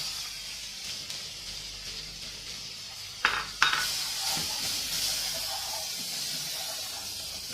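Sliced onions sizzle in melted butter in a pan for bread masala, a steady close hiss with two brief clinks of a utensil against the pan near the middle and no talking.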